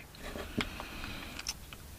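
A quick snack eaten while sheltering from rain outdoors, with a few crisp bites and soft chewing sounds spread over two seconds against a steady background hiss.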